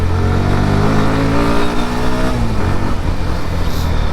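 A motorcycle engine runs loud and close, revving with a rising, steady throb that holds and then settles into a rough, rumbling idle.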